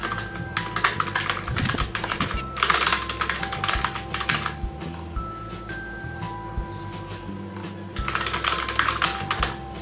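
Keys clatter on a computer keyboard in quick irregular bursts of close clicks with short pauses between them, and faint speech runs underneath.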